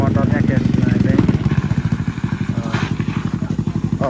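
A motorcycle engine runs close by with a rapid, pulsing putter that speeds up and slows as the bike arrives, loud and dominant.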